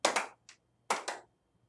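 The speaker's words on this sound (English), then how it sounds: "If you're happy and you know it, clap your hands." Hands clapping along to a children's sing-along song in a classroom setting: two quick claps, a faint third, then another pair of sharp claps, close and clear with no talk.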